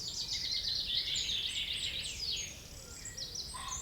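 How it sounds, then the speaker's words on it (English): A wren sings a loud, fast, high trilling song of rapid notes over faint background hiss, outdoors near a dam, with no one talking. "Little wren there, so loud for such a tiny little bird."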